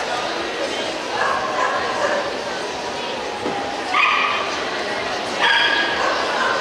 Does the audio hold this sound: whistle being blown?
no